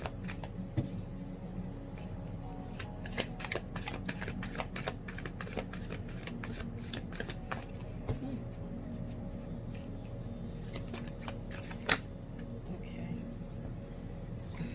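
Tarot cards being shuffled, soft repeated riffling and tapping clicks scattered through the passage alongside a faint voice speaking in the background.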